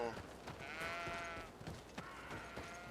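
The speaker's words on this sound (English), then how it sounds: "Goat, goat, goat, cows, goats. Actually, it's all goats." Goats bleat in the video game GreedFall, a few wavering bleats over faint ambient game sound.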